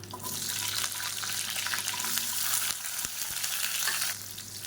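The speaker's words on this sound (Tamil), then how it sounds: "பத்துலேருந்து பதினஞ்சு சின்ன வெங்காயம் முழுசாக அப்படியே சேர்த்துக்கலாம்" Whole small onions, ten to fifteen of them, frying in hot oil with curry leaves: a loud, continuous sizzle with bursts of spattering, stirred as it goes, and no talk.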